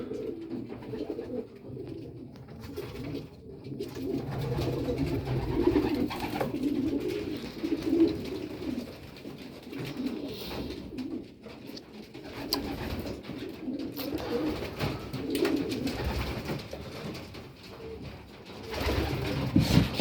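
Racing pigeons coo steadily inside a loft, a soft layered throaty burbling from several birds, close by and continuous throughout.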